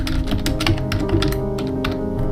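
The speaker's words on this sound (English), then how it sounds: "I'm just going to type in Marty's example site." Rapid typing on a computer keyboard while entering a website title during a WordPress installation on HostGator: steady, close, dense clicking keystrokes with no pauses and no speech.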